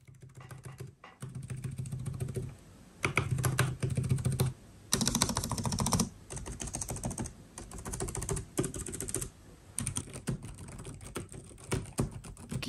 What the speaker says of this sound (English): let's do a little bit of the sound test, and there are 2 mouse buttons at the bottom of the touchpad